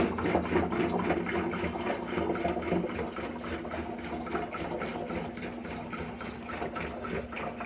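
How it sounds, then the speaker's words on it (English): Water poured continuously into a vessel while making dragon's blood mead, a steady splashing, gurgling fill heard up close and alone. "So I'm going to pour, I'm going to keep on pouring until I'm comfortable."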